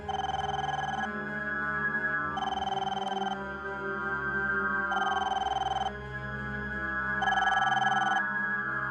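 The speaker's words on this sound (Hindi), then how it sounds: "ये अमित फोन क्यों नहीं उठा रहा है?" A telephone rings in a regular pattern, four electronic ring bursts with short pauses between, steady and fairly loud with no voices.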